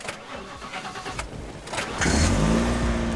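A car engine in The Last Stand Aftermath, a zombie roguelike game, cranks and catches, then settles into a loud, steady running drone that fills the second half of the sound.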